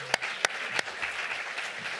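Fairly quiet, steady applause from an audience at a research discussion event, a soft wash of clapping punctuated by a few sharper, louder claps near the start.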